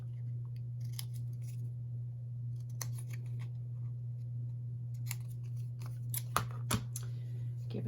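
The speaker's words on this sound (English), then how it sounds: "That's a bit big, I need to cut it down. So we'll go with this one, and I will cut the corners." Scissors trim the corners of a paper ticket in a handful of sharp, separate snips, some in quick pairs, over a low steady hum.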